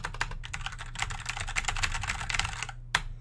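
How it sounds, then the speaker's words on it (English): Rapid typing on a new computer keyboard, dense clicky keystrokes in quick bursts close to the microphone, ending with a final louder key press after a brief pause. "my keyboard sounds different now."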